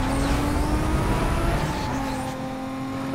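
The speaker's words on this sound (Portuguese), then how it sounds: "Esse GTR aqui tá com o ronco de outro carro, mano." A Nissan GT-R engine roars in the racing game Need for Speed Most Wanted, a loud, continuous drone holding a steady pitch that shifts slightly partway through as the car runs, with no speech.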